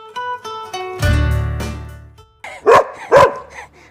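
Cherry, a pet dog, barking at birds perched overhead: after some faint whining and tonal sounds, two sharp, loud, close barks ring out in quick succession, with no talking.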